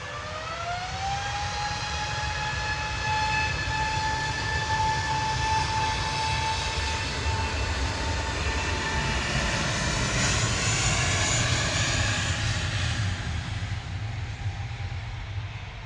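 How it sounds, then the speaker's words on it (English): An Airbus A320neo jet on the ground at Manchester Airport roars steadily and loudly, its rising engine whine held over a broad, continuous rumble throughout. "Shuttle 3 Zulu heading down to London Heathrow now. A320 Neo"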